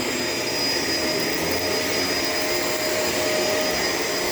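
A Shark LA702 Lift-Away vacuum cleaner drones loudly and steadily while cleaning a hallway floor, a constant close whine with a high tonal hum and no voices.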